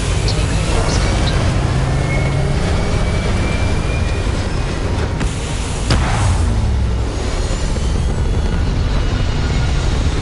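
Spaceship taking off in the video game Starfield, a loud, continuous roaring engine rumble with a broad rushing hiss that holds steady throughout.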